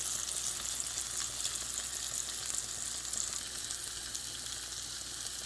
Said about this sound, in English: I got my over easies coming up next.